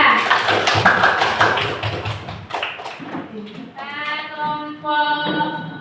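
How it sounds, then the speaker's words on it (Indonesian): Students in a classroom clap for a presenting group in a brisk burst of applause that fades as a voice begins speaking over the quieting room. "Kasih aplaus untuk teman kita"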